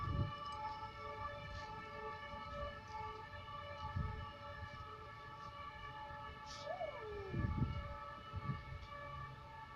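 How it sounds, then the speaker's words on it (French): A fire engine siren wails steadily at a distance, its sustained tones rising and falling over a faint low background hum, with occasional dull thumps nearby. "ça c'est la sirène des pompiers."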